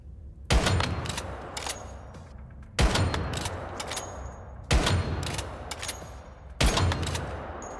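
Sniper rifle shots in the survival shooter Once Human: four loud, heavy single blasts spaced about two seconds apart, each with a long rolling echo tail and faint game ambience between them.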